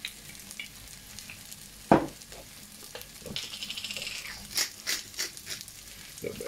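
Prawn fried rice with Thai spices sizzles in sesame oil in a pan, a quiet, crackling fry broken by sharp scrapes and stirring bursts, with no talking.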